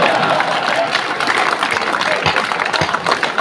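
An audience applauds in a dense, continuous wash of clapping that stays loud and close from start to end, with crowd noise and a voice mixed in.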